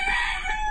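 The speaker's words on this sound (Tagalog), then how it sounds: "Sinundan na ako ng mga manok." A chicken gives a brief, loud, close call with a sustained tonal cry, heard alone without any talking.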